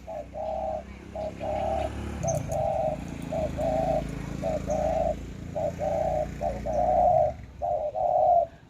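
A trained spotted dove at a cooing contest gives about ten evenly spaced, clear coos in a steady rhythmic series, close and prominent, over a low background murmur.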